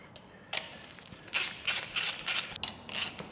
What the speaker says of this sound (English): as I start to wind them bolts down, it's compressing the spring in and releasing the collets